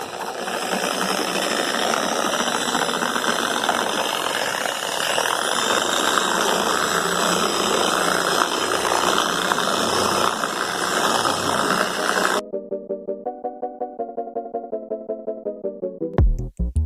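A Harbor Freight Bauer 5.7-amp 6-inch dual action polisher runs with a loud, steady whirring rattle, then switches off and winds down with a rhythmic ticking as it slows to a stop.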